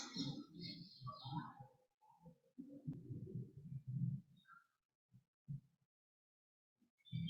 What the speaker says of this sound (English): Listen to your heart beating.